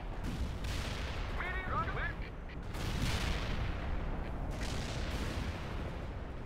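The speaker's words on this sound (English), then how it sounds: "Medium artillery firing at coordinates." Dull, sustained rumbling and thudding from medium artillery firing in a battlefield video game, a constant mid-level barrage with occasional sharper reports and brief voice chatter over it.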